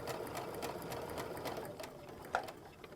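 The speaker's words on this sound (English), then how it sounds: "I can continue guiding that 1/4 inch stitch all the way down to the end" A sewing machine stitches a quarter-inch seam on a fat quarter triangle quilt, a soft, rapid, even needle patter at close range.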